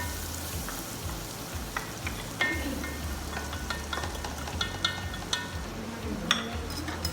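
Onion frying with garlic in a casserole pot, a continuous soft sizzle punctuated by light stirring scrapes and occasional clinks, close by and without talk.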